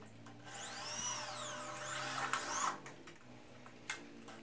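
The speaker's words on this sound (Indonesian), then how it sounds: "Lalu kita baut dobelannya agar tidak berubah lagi." A power tool drives bolts through doubled light steel C-channel on a knockdown stepladder: a close motor whine rises and falls in one long run, followed by a shorter burst and a few sharp metallic clicks.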